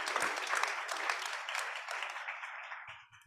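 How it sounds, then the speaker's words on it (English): An audience at a photography and multimedia journalism event applauds steadily for about three seconds, a dense wash of many hands clapping that tapers off near the end. "Can you give me a round of applause?"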